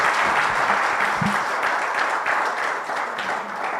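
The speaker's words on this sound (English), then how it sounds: "If I had all the hands you have, I would clap again for the director," An audience at an anniversary celebration claps steadily after a speech, a dense, moderately loud wash of applause with a few louder individual claps.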